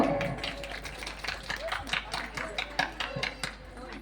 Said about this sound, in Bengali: জোরে একটু জোরে হাতের তালি চেয়ে নেব